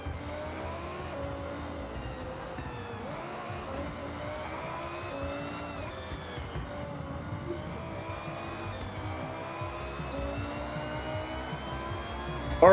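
Race cars in the Forza Horizon 6 video game roar continuously, their engine tones climbing and shifting through gear changes, with occasional tire noise, steady and loud throughout with no talking.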